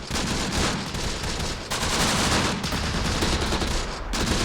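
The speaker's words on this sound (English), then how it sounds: "Let's hit the 30 cal heavy machine gun." Sustained, dense burst of heavy machine gun fire from a .30 cal weapon in the Close Combat: The Bloody First war game, rattling loudly and continuously with a brief dip in the middle.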